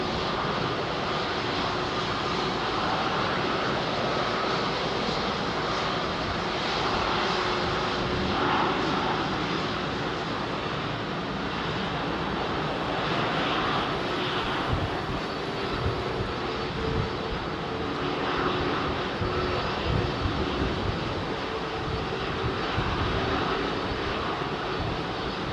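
Aircraft departing London Heathrow runway 27R, a loud, continuous jet engine roar that holds steady and close throughout, with no voices over it.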